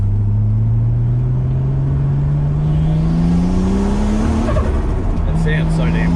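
A Nissan Skyline R32 sports car engine revs loudly up close, its pitch climbing steadily in a long continuous pull with a brief lift near the end.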